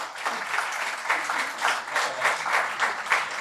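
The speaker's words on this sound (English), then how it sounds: "round of applause for Laura." An audience claps at a New York theater event, a dense, steady round of applause that swells and pulses for a few seconds.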